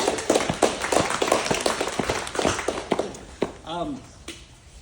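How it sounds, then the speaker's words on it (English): Staff at a workplace meeting give a round of applause, a dense burst of hand claps that thins into scattered claps, with a brief voice rising near the end. "Big round of applause for everybody."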